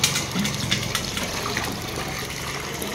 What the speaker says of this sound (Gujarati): મોટર ચાલુ કરીશું અને પાણી ભરીએ છીએ અહીંયા.